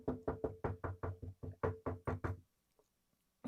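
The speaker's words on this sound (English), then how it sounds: "Knock, quickly." A door is knocked on as a radio drama sound effect: a rapid series of about twelve sharp, close raps in quick bursts, followed by near silence.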